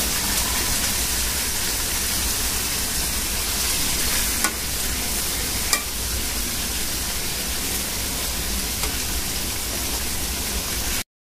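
Boal fish fried in a thick spice paste, giving a steady broad hiss of sizzling oil with a couple of soft clicks from stirring, and no talking.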